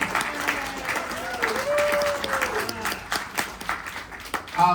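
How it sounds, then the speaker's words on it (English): An audience applauds warmly for several seconds, with a voice briefly heard over the clapping. "let's give her a big round of applause for all the hard work that she did"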